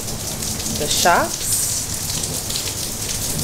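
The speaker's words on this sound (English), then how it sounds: "it's raining quite a bit, so we're gonna wait and see if it lets up" Heavy rain falling outdoors, a dense continuous hiss of drops throughout, with a person speaking briefly over it.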